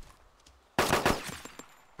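Gunfire in DayZ, a sudden sharp burst of rapid shots breaking a quiet lull, then tapering into scattered fainter reports and a final crack at the end.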